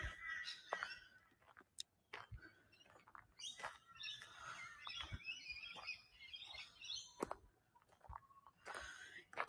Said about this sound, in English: That one we're hearing now is the rainbow lorikeet.